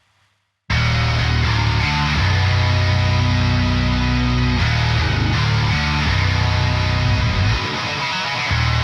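Bass guitar in a prog drum mix plays sustained, low melodic notes with a gritty edge, entering after a short silence and holding loud and steady with occasional note changes.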